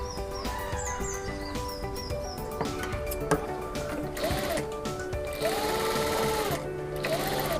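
A sewing machine hums steadily nearby while stitching a puff sleeve onto a blouse, with faint bird chirps and soft handling sounds in the background.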